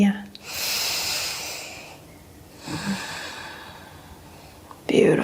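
Deep breathing during a prenatal pilates stretch, slow audible inhales and exhales in two long breathy swells, close and soft, with a brief vocal sound at the end.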